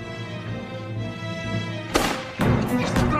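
Gunshots ring out nearby in a tense outdoor scene, two sharp loud bursts about half a second apart following a low rumbling background.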